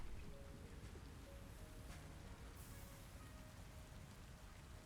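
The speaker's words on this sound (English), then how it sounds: "It's raining." Rain falls in the factory-building video game Satisfactory, a dense steady hiss with a faint rumble underneath that stays even throughout, without speech.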